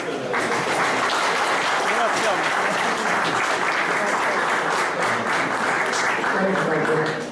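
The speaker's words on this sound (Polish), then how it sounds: "Wielkie brawa, ale zobaczymy co to jest." Audience at a ceremony honouring a running event breaks into sustained, dense applause, many hands clapping steadily and loudly across the whole stretch.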